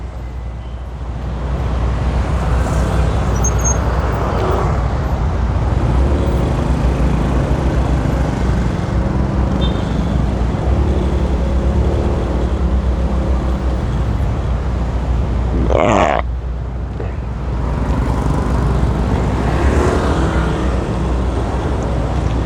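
City road traffic heard from a Motorstar Easyride 150fi motorcycle riding in town: a steady loud engine and road rumble with passing vehicle noise and a brief horn-like tone midway.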